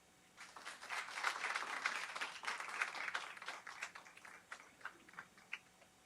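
Applause from a gathered audience at a Thanksgiving community storytelling event, a fairly quiet wash of clapping that starts after a moment, holds steady, then thins into scattered individual claps toward the end.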